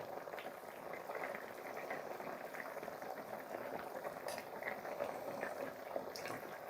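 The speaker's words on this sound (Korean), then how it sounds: "엄청 팔팔 잘 끓고 있네요" Dakbokkeumtang, a chicken stew with potatoes, boils vigorously in a covered pot over medium heat, giving a steady, busy bubbling and gurgling that runs without a break from start to finish at moderate loudness.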